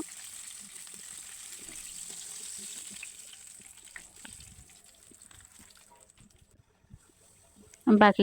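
Chicken pieces fry in oil with a soft continuous sizzle and faint crackles. A sharp burst of louder sizzling rises at the very end.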